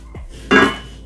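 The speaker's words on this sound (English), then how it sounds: "the third thing we bought with the money we were saving is sufurias" Sufuria cooking pots from a set of four clank together in one short, loud metallic burst, close by and alone.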